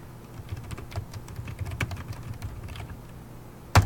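Computer keyboard typing while editing text in a NoodleBib outline, a quiet, steady patter of soft key clicks running throughout, ending in one sharper, louder keystroke.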